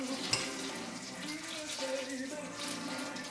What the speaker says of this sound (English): you hear that sounded nice and sizzling